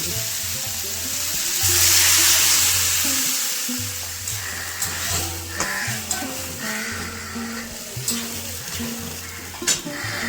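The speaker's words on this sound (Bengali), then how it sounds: "এবারে তো আমি জল দেবো" Water pours into a pan of sizzling pui shak cooked with salt, turmeric and a little sugar, giving a loud hiss that swells and then settles into bubbling with occasional clinks.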